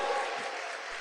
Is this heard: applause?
yes